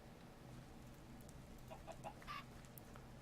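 Several chickens in the Minecraft mod Better Than Wolves cluck softly in short bursts over a quiet background hum, faint and a little distant.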